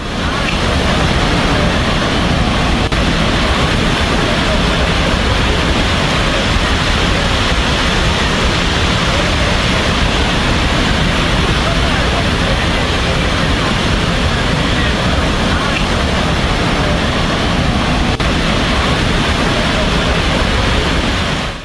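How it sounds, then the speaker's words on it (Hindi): Flash floodwater rushes in a loud, continuous roar of churning water during flooding in Nepal, steady and dense from start to finish with no pauses. "पानी का बहाव देखिए जरा।"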